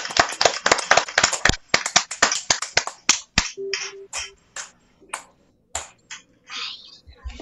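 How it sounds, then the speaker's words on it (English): Children and audience at a preschool and grade school awards activity clap for the placers: a burst of sharp, close claps that starts dense and rapid, then thins into scattered single claps, with a faint voice briefly present. "Okay, clap naman tayo."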